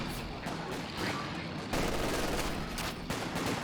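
LMG machine gun fire in a video game, dense sustained bursts of automatic gunfire layered with other shots, loud and continuous with no pause across the stretch.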